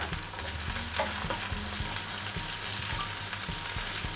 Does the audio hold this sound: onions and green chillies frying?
yes